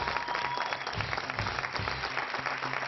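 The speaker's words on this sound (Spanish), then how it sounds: "Un pedazo de aplauso para todo un campeón que se la juega el domingo" A television studio audience claps for a Basque pelota champion, a steady, full round of applause with no speech, evenly sustained for three seconds.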